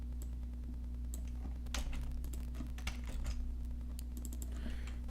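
Someone types code on a computer keyboard, bursts of quick, close key clicks with pauses between, over a steady low hum, no voices.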